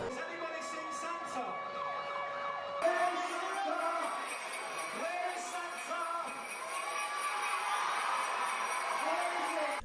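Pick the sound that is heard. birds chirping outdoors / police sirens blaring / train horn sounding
police sirens blaring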